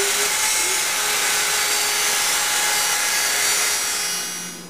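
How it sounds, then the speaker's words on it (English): A router trims the edge of a veneered table top with a loud, continuous high-pitched whine that holds steady and then tapers off at the end. "with the edge routed"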